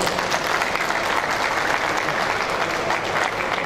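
Steady, full audience applause at an agricultural show presentation, a dense wash of clapping from a crowd throughout the short stretch.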